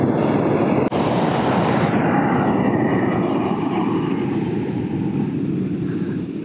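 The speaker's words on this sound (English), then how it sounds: "where the waves are splashing" Waves crash and splash against the rocks, a loud, dense rushing roar that peaks at the start and slowly eases into a softer, lingering wash, heard up close without voices.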